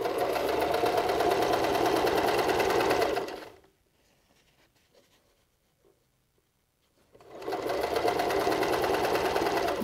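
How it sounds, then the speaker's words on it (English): A sewing machine stitches elastic onto a surgical face mask in two loud, steady runs of rapid needle clatter, separated by a few seconds of near silence. "We're going to stitch right over the top of it."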